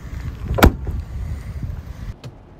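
Front trunk lid of a Ford Mustang Mach-E slammed shut once, a single loud close thump with a brief metallic edge, followed by a quieter knock moments later against a low background.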